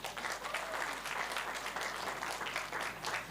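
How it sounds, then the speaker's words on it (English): Audience at a Grade 7 school farewell luncheon in Lusaka applauds, a dense, even wash of many hands clapping steadily throughout. "A big round of applause for them."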